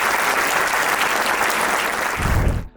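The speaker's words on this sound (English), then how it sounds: "Let's give a huge round of applause for everyone here." A masterclass audience breaks into steady, dense applause that fills the room, continuing evenly before tapering off at the very end.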